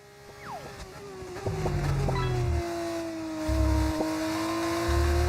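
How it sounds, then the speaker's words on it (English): An F1 car engine in the racing game F1 25 drones and shifts pitch through gear changes, with low buzzing bursts underneath, moderately loud and continuous with no talk. "The engine's very loud in my ears."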